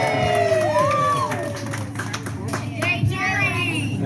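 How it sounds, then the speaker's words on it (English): A crowd claps and cheers loudly, applause filling the space with a steady wash of hands, with some whistles and voices mixed in. "Let's all give a big round of applause for candy cane number 1"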